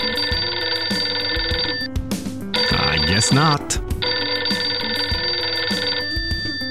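Several cell phones ring in turn, electronic ringtones with steady repeating tones playing loudly almost without pause, while a voice speaks briefly over the ringing.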